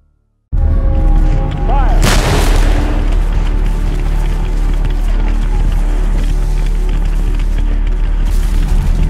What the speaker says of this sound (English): Heavy cannon fire from the Union timberclads Tyler and Lexington pesters the Confederate lines.